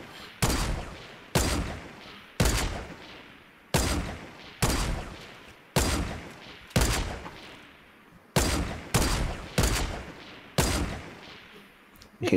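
Sharp gunshots ring out from a video game firefight, about a dozen evenly spaced reports with reverberant tails, some doubled in quick pairs, moderately loud with no talk over them.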